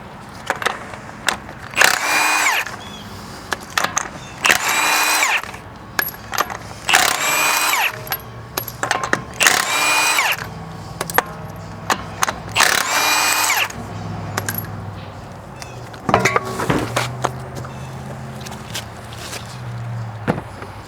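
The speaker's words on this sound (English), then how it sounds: "with the impact gun, we're just going to zip these off" An impact gun zips lug nuts off a 2017 Toyota Prius wheel in several loud, close, rattling bursts of a second or two, separated by short pauses and clanks of nuts and tools.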